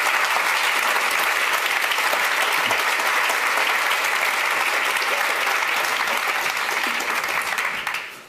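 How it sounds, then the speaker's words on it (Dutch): Warm, sustained applause from a political debate audience greeting two debaters, a dense steady wash of many hands clapping for about eight seconds before fading at the end. "Geef dus een heel warm en hartelijk applaus."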